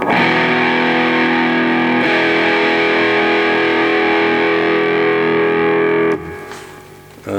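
A sustained, heavily distorted electric guitar chord through a distortion pedal on its turbo distortion setting rings loud and saturated, shifts once partway through, then cuts off and begins to decay.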